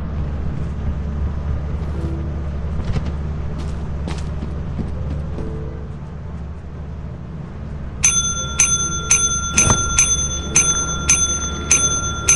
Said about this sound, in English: what happens if you press the bell too many times?